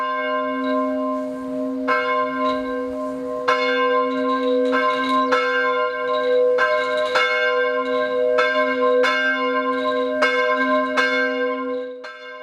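A church bell rings out in a steady series of strikes, each with a long ringing hum that carries into the next, loud and clear with no talking.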